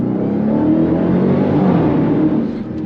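A Dodge Durango Hellcat SUV engine revs loud and close, a steady deep roar holding strong for a few seconds before easing slightly at the end.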